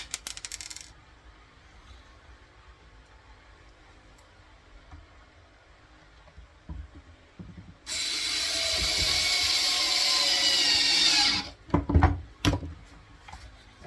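A screw being driven into a bandsaw table fence makes a steady, loud whirring buzz that holds for about four seconds. A few sharp clanks and knocks from handling the parts follow it.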